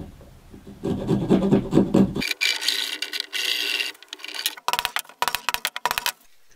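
A fine-tooth blade set in a handle saws through wood for a mantle clock, close-up rasping strokes in uneven bursts, with a few short scrapes and pauses near the end.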